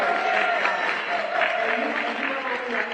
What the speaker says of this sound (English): Sister D.C. Marshall, a round of applause.